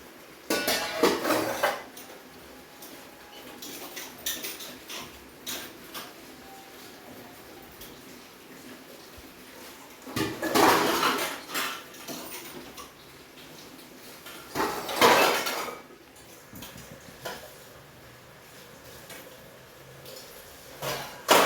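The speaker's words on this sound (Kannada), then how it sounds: "ನಮ್ಮನೆ ಕಮಲಮ್ಮ ಪಾತ್ರೆ ತೊಳಿತಾರೋ ಸೌಂಡ್ ಅಂತೂ ಜೋರು" Dishes being washed in a home kitchen: metal pots and utensils clatter and clank in bursts, with loud clusters of knocks and scraping between quieter stretches of rinsing, no talking.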